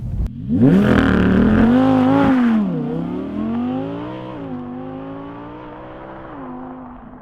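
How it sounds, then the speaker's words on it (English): An Audi R8 V10 Performance's rear-mounted V10 engine revs up loudly, its pitch climbing and dipping through gear changes, then settling into a steady drone. "has got a sonorous, fantastic V10 engine in the back of it"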